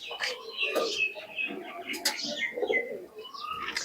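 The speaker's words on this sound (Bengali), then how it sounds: "চলো, এই তিনটে কবুতর মুকুল ভাই ওড়াবে।" Pigeons waiting to be released in a high-flying tournament coo and flutter close by, soft throaty calls repeating irregularly with a few brief chirps.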